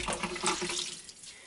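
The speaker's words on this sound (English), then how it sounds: "when I'm squeezing the sponge, most of the soap will be coming out" Soapy water gushes and splashes out of a sponge as it is squeezed while cleaning a plush toy, a close, bright watery rush that fades within about a second and a half.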